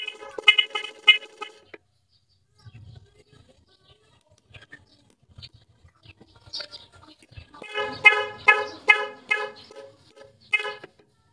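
A loud two-tone dual contact car horn blares in short bursts, first a sustained blast, then a quick series of rhythmic honks after a quiet pause with faint clicks.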